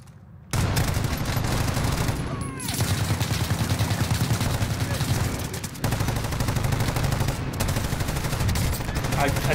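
Rapid gunfire and automatic weapon bursts from the video game Call of Duty: Warzone, loud and nearly continuous with brief pauses, dense sustained firing throughout.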